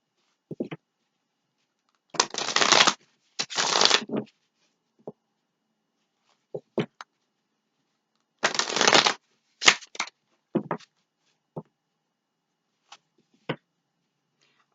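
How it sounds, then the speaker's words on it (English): Oracle cards being shuffled in bursts, riffling rustles of a few seconds each separated by silence, with scattered light taps and slides as individual cards are drawn and placed, close and isolated. "I am going to take one romance angel out, oracle card"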